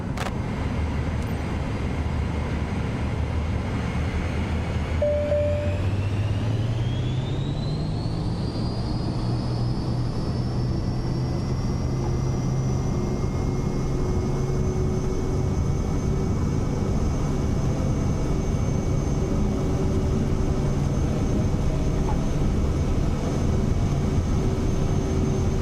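Aircraft taking off in Microsoft Flight Simulator 2024, a steady engine drone that swells and climbs in pitch as power comes up, then holds a sustained whine through the takeoff roll, no voices.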